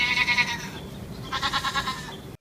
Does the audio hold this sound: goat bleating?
yes